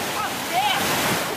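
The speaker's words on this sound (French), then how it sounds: "l'homme est fauché par les vagues" Powerful ocean waves surge and crash against the shore, a broad continuous roar of surf lasting through the moment, with a voice faintly present underneath.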